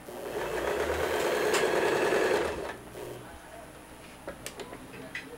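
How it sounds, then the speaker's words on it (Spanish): Sewing machine stitching fabric strips diagonally to a point for a dress, a loud steady motor whir for a few seconds that stops, followed by faint clicks as the fabric is handled. "Entonces acá le cosemos la puntica tirándola diagonal, tirándola así la máquina."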